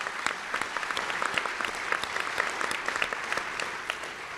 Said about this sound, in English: can we give all of our student award recipients another round of applause?